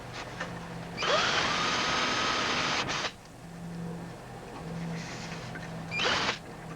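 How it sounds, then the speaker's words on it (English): A power drill whines loudly for about two seconds drilling out a vehicle frame post, stops, then gives a brief second burst, with quiet pauses between. "drill it until we get it broke loose"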